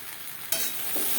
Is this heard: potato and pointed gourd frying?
yes